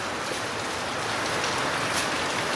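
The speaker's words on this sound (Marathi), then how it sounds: "कसला जबरदस्त पाऊस पडतोय बघा" Heavy monsoon rain pours down around a house in Konkan on a morning during the Ganesh festival, a steady, dense hiss of downpour with no gaps and no voices.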